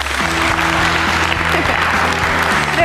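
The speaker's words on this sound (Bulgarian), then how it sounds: "Моля аплодисменти за лайфстайл редактора във вестник Монитор Филип Данауи" A television studio audience breaks into sustained applause, dense and loud, for the full length with no talking over it.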